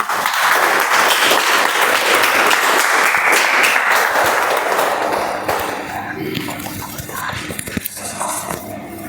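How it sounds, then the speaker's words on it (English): Audience at a Toastmasters meeting breaks into loud, sustained applause, a thick wash of clapping that gradually thins and fades toward the end as scattered claps and room noise remain. "So can we have a big round of applause for our first speech evaluator"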